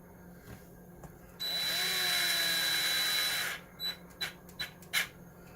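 A power drill drives screws into an Axial SMT10 Grave Digger RC truck, with one steady whirring run of about two seconds followed by several short bursts, close and clear, with no talking.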